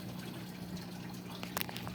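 Water pours steadily and faintly during a water change for a goldfish tank, a soft continuous trickle with a few small splashes near the end.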